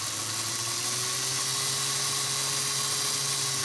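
A restored Hornby Dublo BR black Standard 4MT model locomotive runs its mechanism, giving a steady, close buzzing motor whine with a faint gliding tone that continues unbroken and has no voices over it.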